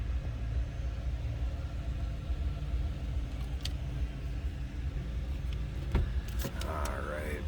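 A 1996 Cadillac Fleetwood Brougham engine idles steadily with a low rumble, heard from the rear, a few light clicks and a faint rising whine near the end.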